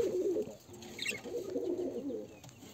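Pigeons coo softly inside a pigeon loft, a low murmuring chorus running through most of the moment with a brief higher chirp midway, close and steady.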